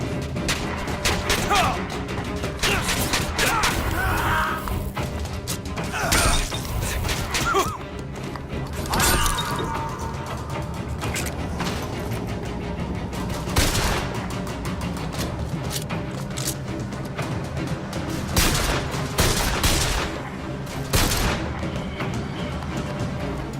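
Gunfire in the first-person shooter BioShock Infinite, dense bursts of shots and heavy impacts mixed with explosions and game sounds throughout, with occasional voices.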